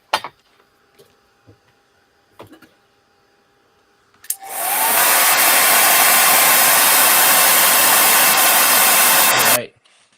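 A hair dryer switches on after a few seconds of quiet clicks and handling, then blows loudly and steadily for about five seconds before cutting off.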